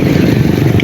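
A single motorcycle rides steadily, its engine a close, continuous low rumble with rattling clatter throughout this brief moment.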